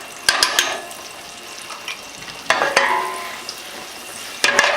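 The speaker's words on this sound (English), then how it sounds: "we're going to put in 2 tablespoons of butter and let that melt down and come up" Two tablespoons of butter melt and sizzle in a hot pan, a soft crackling fry broken by sharp clinks of a utensil against the pan in scattered bursts.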